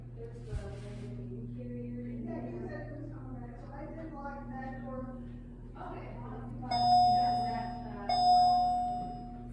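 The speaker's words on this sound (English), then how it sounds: "Here's the indicator. Listen to that chime." An MEI hydraulic elevator at a nature center in Lino Lakes, Minnesota sounds its indicator chime twice, two clear bell-like tones ringing out near the end over a steady low machinery hum, with a voice speaking before it.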